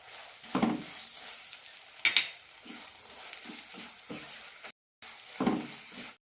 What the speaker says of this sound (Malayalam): രണ്ട് മിനിറ്റ് നന്നായി വഴറ്റിയെടുക്കാം